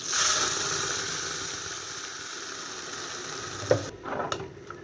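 Freshly ground masala paste hitting hot oil already tempered with curry leaves and dried red chillies for horse gram bassaru, a steady sizzling hiss that fades, then a few sharp clatters near the end.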